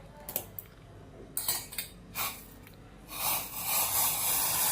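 A hot herbal decoction of jaggery and spices is poured from a pan into a cup, with metallic clinks and scrapes first and then a steady close splashing pour.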